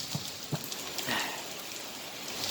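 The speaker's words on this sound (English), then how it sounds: "this rain is quite a burden." Steady rain falling outdoors, a soft continuous hiss with a few faint drop taps, quiet and without any voices.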